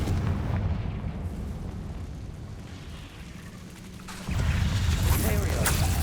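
A Confringo fire spell bursts in the video game Hogwarts Legacy, a rumbling blast swelling loudly over layered game ambience and effects, with a second surge near the end.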